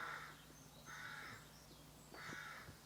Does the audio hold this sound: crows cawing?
yes